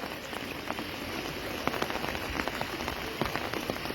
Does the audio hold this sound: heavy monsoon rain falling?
yes